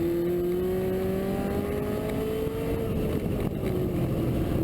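A Lotus race car with a rear-end handling problem accelerates hard around the CMP track, its engine holding a loud, steady droning note that climbs slightly, then eases off near the end.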